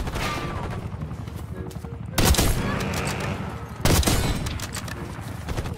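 Gunfire in Call of Duty: Black Ops 6 rattles in steady bursts, with two louder shots or blasts cutting through, under a constant game soundscape.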